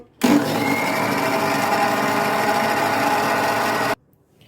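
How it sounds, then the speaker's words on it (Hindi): Kitchen blender whirring homemade mayonnaise ingredients in a jar, starting abruptly and running as one loud steady motor whine for nearly four seconds before cutting off sharply. "मैं इसको 30-40 सेकेंड्स के लिए ब्लेंड करूंगी"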